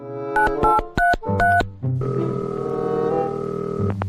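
A telephone is dialed: a quick series of short, distinct keypad tones in uneven rhythm is followed by a steady, sustained dial or ringing tone, loud and close, with no voices.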